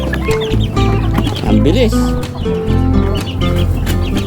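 Newly hatched chicks and older chickens peep and cluck steadily, close by, with a person talking over the busy, overlapping calls.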